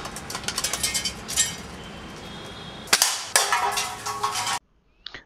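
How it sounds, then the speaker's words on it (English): Air rifle fired at targets while plinking: a few sharp, bright cracks and metallic clinks stand out around the middle and end, over a busy outdoor background, with no talk. "Shooting at targets with an air rifle or plinking can be great fun"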